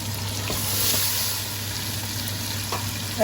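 Canned tinned tomatoes go into a pan of frying onions, ginger and garlic, giving a steady close sizzle with a faint clink near the end.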